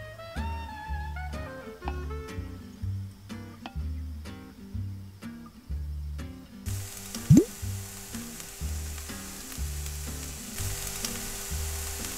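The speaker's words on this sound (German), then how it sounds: "Nach einem Morgen voller Laptop-Arbeit habe ich hier ein bisschen was in der Pfanne zusammengemixt als Mittagessen" Food frying in a pan for a simple lunch, with a steady sizzle and repeated clinks and scrapes of stirring throughout, briefly louder near the middle.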